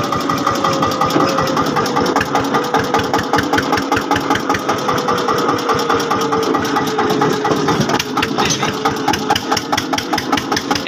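An Eicher 242 tractor engine idles on a road, a steady, loud mechanical chug with a continuous rapid knocking pulse that runs throughout, close to the listener and with no talk over it.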